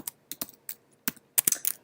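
Fingers tap on a computer keyboard in short, uneven clusters of crisp, close keystrokes, with a quick flurry of clicks toward the end.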